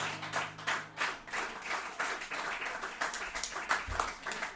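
An audience at a show claps in a quick, uneven burst of applause, many hands patting together for several seconds, moderately close and fairly soft with no talk.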